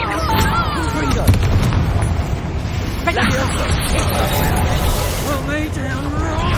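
Repeated Confringo blasting-spell explosions in Hogwarts Legacy combat, loud booming bursts with crackling tails layered over game music, shouted character voices and whooshing spell effects.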